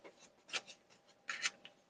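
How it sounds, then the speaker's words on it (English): Tarot cards laid out one by one on a table, giving soft papery slides and light taps in two brief bursts, quiet and close, with no talking. "Going to lay out 3 cards."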